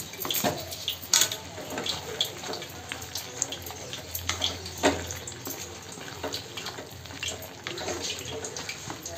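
Water poured from a tap into a cooking pan in a home kitchen, a steady splashing rush that stays moderately close and continuous for several seconds with no talk over it.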